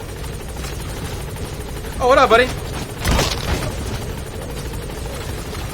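The Pequod helicopter from Metal Gear Solid V hovers close by with a loud, continuous rotor thrum, broken by a couple of brief impact bursts, while a voice talks over it.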